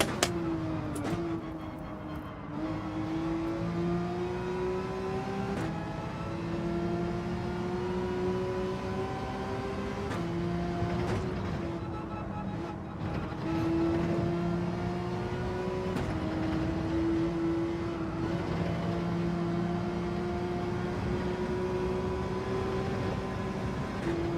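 Porsche race car engine in Gran Turismo 7, droning steadily through gear changes with rising and falling pitch sweeps, loud and continuous throughout with no talk.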